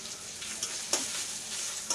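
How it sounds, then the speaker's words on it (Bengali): Onion, chili and spices fry in a pan with a steady soft sizzle, punctuated by a few faint scraping stirs of a spoon. "পেঁয়াজ মরিচ মশলা দিয়ে ভুনা হচ্ছে"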